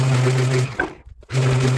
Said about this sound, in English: we'll get these bits of wood chamfered up and glued together now